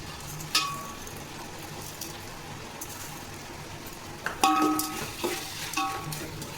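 Food frying in oil while being stirred, a low steady sizzle punctuated by metallic spoon clinks against the pan, busier toward the end; no speech.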